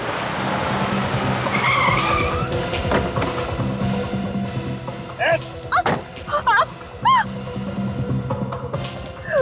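A car skidding to a stop, with a long rough tire scrape and engine noise, followed by scattered sharp bangs and brief squeaky cries amid background commotion.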